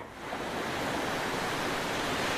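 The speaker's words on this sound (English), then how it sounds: "There are waves crashing at me." Ocean surf in a virtual reality beach scene, a steady broadband wash of crashing waves that swells in at the start and holds at a constant level, with no voices.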